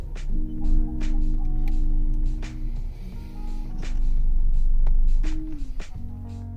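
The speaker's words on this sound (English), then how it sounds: "start the vehicle and select a gear" A Range Rover Evoque fitted with an aftermarket immobiliser starts and settles into a steady, low engine hum that holds for several seconds with a small shift in pitch near the end. Short clicks and tones sound over it.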